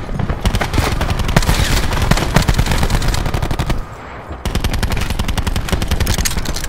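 Cluster grenades go off in a shooter game as a dense, loud, rapid chain of crackling blasts that runs nearly nonstop, with one brief dip before the barrage resumes.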